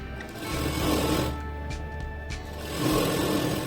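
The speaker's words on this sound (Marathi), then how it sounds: "आपण त्याला शिलाई मारायची अगदी व्यवस्थित अशी पट्टी पकडून आणि त्याच्यावरती शिलाई मारायची आहे" A sewing machine stitches a strip onto a blouse, running in a close, steady whirring hum that eases briefly mid-way before picking back up, with no talk.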